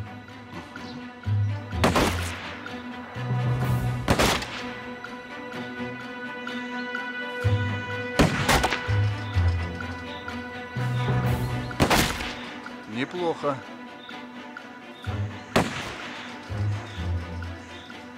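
Gunfire at shooting practice: a series of loud, sharp single shots spaced a few seconds apart, ringing against a steady hum, with brief talk in between.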